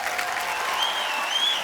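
An audience at a live television comedy show breaks into loud, sustained applause for a musical performance, with many hands clapping together and a few whistles and cheers over the clapping.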